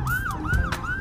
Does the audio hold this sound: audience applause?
no